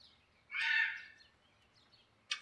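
A single harsh bird call rises for about half a second, followed by quiet and one short, sharp chirp near the end.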